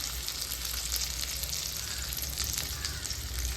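Pieces of fruit dropped into hot oil in a home kitchen, giving a steady, loud, bubbling sizzle of frying throughout with no talk over it.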